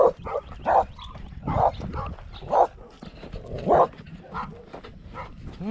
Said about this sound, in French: il y a les chiens qui sont aux propriétés aux alentours qui aboient en fait